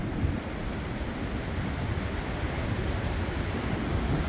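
A strong wind gust during a UK storm with 70-90 mph gusts roars loud and steady throughout, a broad rushing buffet against the microphone with surf-like turbulence and no let-up.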